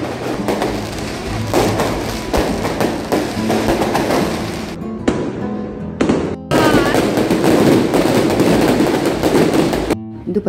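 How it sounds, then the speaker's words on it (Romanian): Fireworks burst over Barcelona during the La Mercè festival: loud, dense volleys of rapid cracks and booms that run almost without pause, with a brief lull near the end. "După ce ne-am bucurat din plin de artificii"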